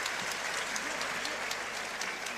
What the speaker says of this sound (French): il est applaudi, c'est pas pour rien, c'est un public de connaisseurs